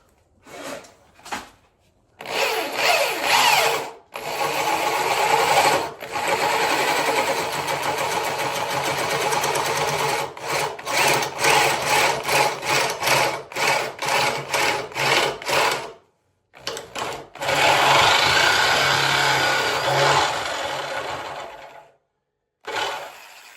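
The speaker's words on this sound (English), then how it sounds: "That might be the cleanest output jack drill hole I've ever drilled." A large drill bores an output jack hole into a guitar body, running loud and close in long bursts with brief pauses between them, the motor whining steadily as the bit cuts through wood.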